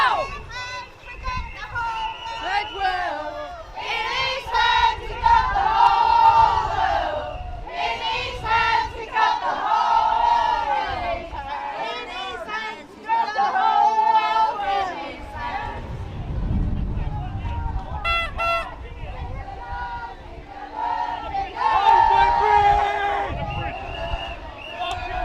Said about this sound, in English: Massive crowd joined.